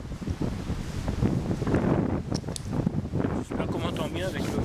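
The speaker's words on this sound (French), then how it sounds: "J'espère qu'on m'entend bien avec le vent." Gusty wind buffets a microphone outdoors in a garden during seedling transplanting, rumbling in uneven bursts under a man's continuous speech.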